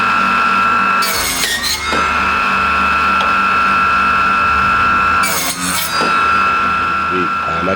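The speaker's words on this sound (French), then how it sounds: "À la cote avec une scie de modélisme" A model-making saw cutting wooden sleepers for a model railway track: short bursts of rasping strokes under a steady high-pitched mechanical whine and hum, close and loud.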